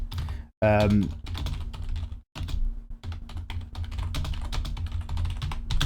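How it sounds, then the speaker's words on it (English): Someone types on a computer keyboard in a steady run of quick, close clicks, a brief spoken phrase near the start, with a low hum underneath. "I stopped talking there because I was typing"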